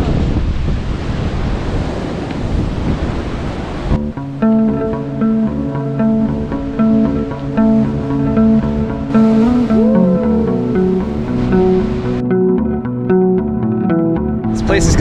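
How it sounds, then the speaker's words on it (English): Ocean surf rolls in at Suicide Beach in Tasmania, a loud rushing wash mixed with wind buffeting the microphone for the first few seconds before music takes over. "these look like good surfing waves, mate, but we're here at Suicide Beach."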